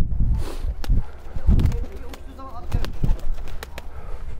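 A pigeon coos and rustles nearby amid scattered thumps and movement, with a person talking over it.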